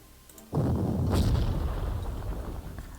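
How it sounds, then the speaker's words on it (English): Artillery fire in the video game Panzer Corps Gold lands as one loud, deep boom that opens abruptly and then rumbles and decays for a couple of seconds, with no talk. "Let's shoot them with artillery."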